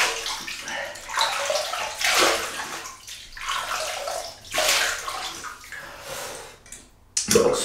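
Water runs from a tap and splashes in surging waves as a face is wetted for a shave at a sink, loud and close, with a brief pause near the end before the flow resumes.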